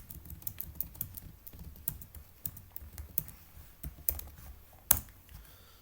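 Rapid, uneven clicking of a computer keyboard as values are typed in, steady close keystrokes with occasional louder taps, alone without voices.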